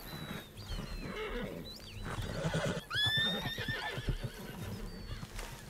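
A horse in Red Dead Redemption 2 neighs and whinnies several times, its calls rising and falling over a steady backdrop of game ambience and hoof movement, fairly close and loud.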